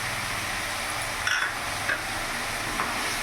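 Soaked raw chickpeas stirred into a potato and papaya curry, heard as a steady hissing sizzle with a few soft spoon scrapes, close and continuous without any speech.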